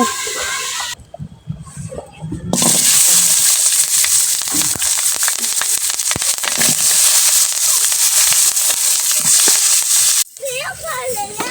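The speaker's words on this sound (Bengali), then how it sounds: "পেঁয়াজ ভাইজা নিতেছি ভর্তা দেওয়ার জন্য" Onions frying in a pan for bharta, a loud dense crackling sizzle that holds steady for most of the stretch, with brief quieter moments and some background voices at the start and end.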